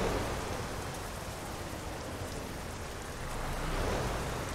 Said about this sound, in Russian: В игре как-то дождь